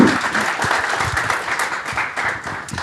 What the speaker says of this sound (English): Let's give some applause.